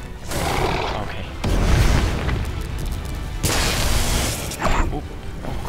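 Arcane spells cast in Magicka burst out as loud booming, crackling blasts in two long surges with sharp pops in between, and no clear talking.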